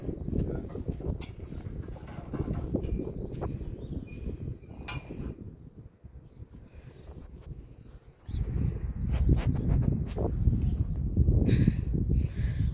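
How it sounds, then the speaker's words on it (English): Horse hooves clip-clopping on a farm as the horse is let out, irregular close footfalls with rustling, growing louder and denser in the latter half, with no talk. "You just let the horse out, wouldn't you?"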